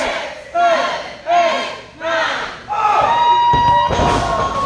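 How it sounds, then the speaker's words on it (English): A wrestling crowd at an independent championship show roars and chants in surging waves behind the challenger, loud and close, with shouts rising in pulses and a thud near the end. "our crowd trying to get behind the challenger here"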